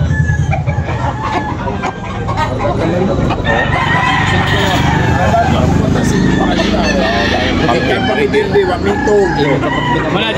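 Several fighting roosters crow and cluck at a rooster sale at Tabunok, the calls overlapping loudly and continuously under steady crowd noise and chatter.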